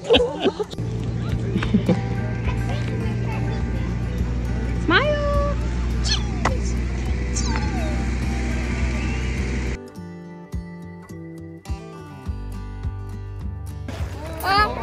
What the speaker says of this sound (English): There's a little cat.